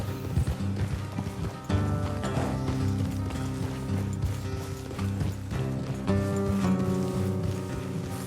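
Rhythmic clip-clop of horse hooves trotting steadily in the video game Red Dead Redemption 2, mixed with clanking tack and a bed of background music, fairly loud and continuous.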